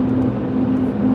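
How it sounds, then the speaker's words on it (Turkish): Heavy truck rumbling past inside the Gerze tunnel on a cold winter road trip, a steady loud low drone with a constant hum and no break across the short stretch. "İşte kamyon nasıl ses yapıyor"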